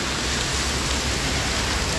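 Intense heavy rain hammering down in a constant, full hiss and patter, loud and near, steady throughout without pauses or talk.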